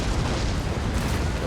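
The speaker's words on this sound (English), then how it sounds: "A couple of cannon shot landed right in the middle" Cannon round shot slams into massed troops in an Empire: Total War British campaign battle, a dense, continuous roar of booming impacts and rumble filling the moment with no talk.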